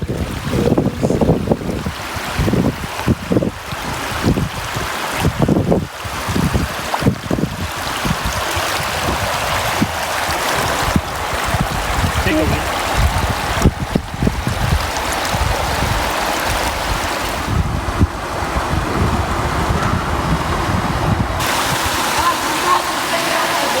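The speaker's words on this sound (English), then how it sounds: "We came up to the top of the waterfall." Broad, steady rush of falling water heard from the top of a waterfall in Baja, Mexico, loud and continuous with wind buffeting the microphone and a few brief knocks early on.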